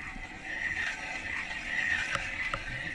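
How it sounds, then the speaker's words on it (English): A trailer wheel on a raised axle spins with a faint, steady scraping hiss from a freshly serviced brake shoe rubbing inside, plus a couple of light clicks, heard close and alone. "you can hear a little bit of noise from that brake shoe in there"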